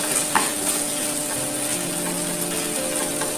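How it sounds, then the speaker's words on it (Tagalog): A spoon stirs creamy penne pasta with sardines in a home kitchen pan, a steady soft scraping and bubbling sizzle running continuously at close range with no talk. "Halo natin siya guys."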